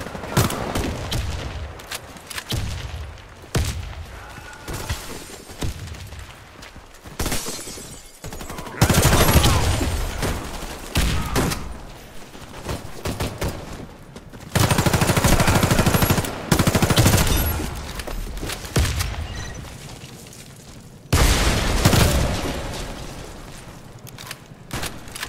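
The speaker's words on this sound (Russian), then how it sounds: "Граната пошла!" A grenade goes off amid heavy gunfire in a combat game: dense bursts of machine-gun fire, loud and close, with broad booming blasts breaking through between the volleys and no talk.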